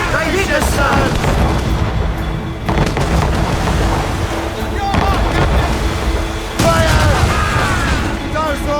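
Cannon fire strikes a sailing ship in the Assassin's Creed Rogue video game, with loud, dense booms and crashing impacts rolling over a constant roar of battle, and shouted voices mixed in.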